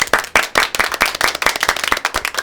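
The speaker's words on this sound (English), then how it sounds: "Some claps." Quick run of hand claps, about a dozen sharp close slaps in an uneven brisk rhythm, with no talking.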